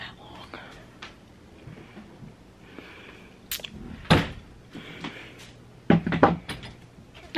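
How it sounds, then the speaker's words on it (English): Indoors, a door swings and bangs against the neighbouring door in a few sharp knocks, separated by quieter rustling and handling sounds. "I hate when the door does that. It just like bangs off the other one."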